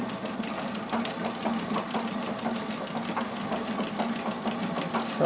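A 1951 Singer 201K sewing machine runs at steady speed, its needle mechanism ticking in a fast, even rhythm over a humming motor drone, close and continuous with no voices.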